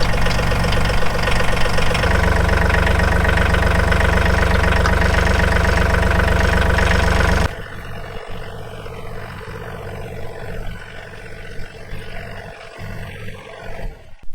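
A John Deere 3033R compact tractor engine idles with a steady, loud drone for about seven seconds, then the sound drops to a quieter, rougher rumble with scattered knocks and clatter.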